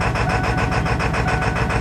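A Ford engine runs roughly after a cold start, not all cylinders firing, giving a steady, loud, close idle with a regular pulsing throb and no talk over it.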